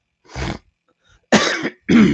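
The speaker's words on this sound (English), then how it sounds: "I have to keep coughing" A man coughs and clears his throat three times in separate loud, close bursts with short silences between them.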